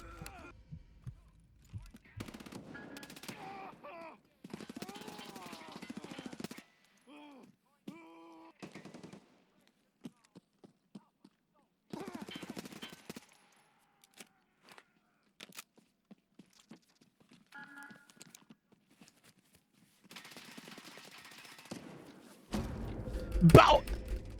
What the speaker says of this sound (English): I need to learn to burst with my guns.